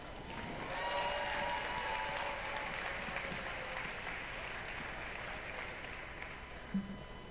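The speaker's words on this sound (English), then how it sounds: "please give a rounding applause to your event coordinator, Lynn McClearmont." An audience applauds the event coordinator at the opening ceremony of Bot Bash 2018, a robot combat event. The clapping is steady and sustained, rising slightly early on and then holding evenly, with faint tones in the background.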